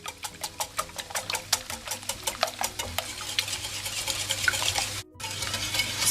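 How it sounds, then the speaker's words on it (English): Egg mixture for a zucchini omelet whisked briskly in a bowl, a close, steady run of rapid clinking strokes against the bowl that grows denser and continues with no voices. "So I'm going to go ahead to whisk this egg mixture until it's well combined."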